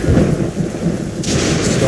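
A thunderstorm in the video game Assassin's Creed Rogue: loud, close rolling thunder rumbles over heavy rain, with a bright crackle of rain noise rising near the end.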